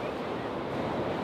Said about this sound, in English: The waves are breaking directly on the sand.